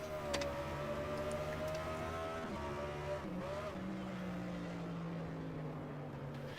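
Stock car engines roar in a video game race at Nashville Fairgrounds, heard from the rear camera of a 2007 Ford Fusion: a steady, buzzing engine whine that rises and dips in pitch as cars run close together.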